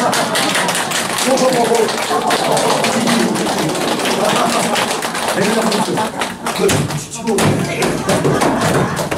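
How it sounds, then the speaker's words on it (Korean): Elderly participants in a well-dying education class at a community welfare centre clap rhythmically and continuously, the clapping blending with loud group laughter and voices throughout. "박수 시작"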